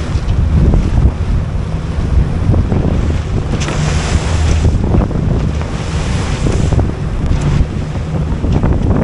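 Sea waves surge and slap around a sailboat on open water between the Greek island of Symi and Bozburun, with loud, continuous rushing water and heavy wind buffeting the microphone.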